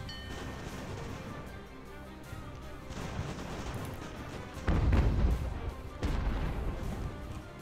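Cannon artillery booms from a naval-era battle in Ultimate Admiral: Age of Sail, a heavy blast near five seconds over a continuous rumble of distant gunfire and battle noise.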